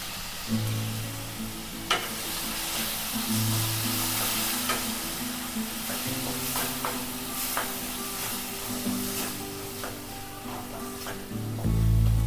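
Ground spice paste for a peanut curry sizzles steadily in a pan while being stirred, with soft scrapes and clinks over the frying, a low tonal hum running underneath.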